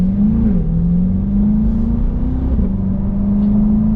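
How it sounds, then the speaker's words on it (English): A C8 Corvette's engine rumbles low and loud, its pitch rising and dipping as it revs, deep exhaust tone throughout. "Still love the sound of the exhaust."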